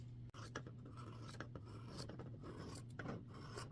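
A sewing machine stitching around oven mitt fabric, a quiet mechanical whir with rhythmic rasping bursts as the needle runs, heard close and alone.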